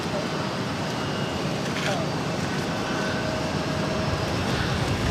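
A Korean Air Boeing 777-300ER arriving at Boston Logan gives a steady, broad, distant jet roar that holds evenly throughout, with a faint thin engine whine on top.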